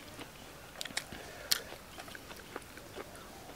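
Grilled red ant eggs being bitten and chewed close up, giving a few faint, crisp crunches scattered over a few seconds, with one sharper crack standing out.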